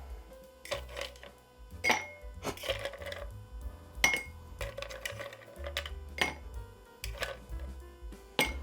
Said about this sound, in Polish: Następnie delikatnie dodaję lodu z zamrażalki.